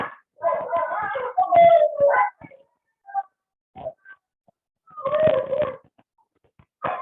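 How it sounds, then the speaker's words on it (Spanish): Pet dogs in a house making yelping, whining bark-like vocalizations in a few close bursts separated by quiet gaps. "mis perros no dejan trabajar aquí."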